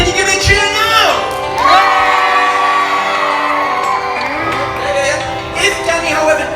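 An audience of children and adults cheers and whoops loudly on cue, shouts rising and falling over several seconds in a large room, with a voice over a speaker system.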